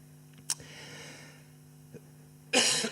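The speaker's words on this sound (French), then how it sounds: "C'est rare, ça me fait tousser." A quiet council chamber hum with a couple of faint clicks, then one loud, close cough bursts out near the end.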